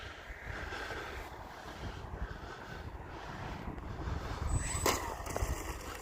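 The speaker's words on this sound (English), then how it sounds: "We'll bring it in for a normal landing." Remote-control Sbach model plane coming in to land over a snowy field in cold winter weather, its engine a distant steady drone mixed with wind noise on the microphone.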